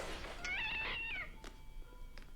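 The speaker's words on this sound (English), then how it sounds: "When the cat runs away, you better be careful." A cat meows in a scene from the 1996 horror film Scream, one drawn-out, wavering cry followed by faint soft clicks and a quiet room.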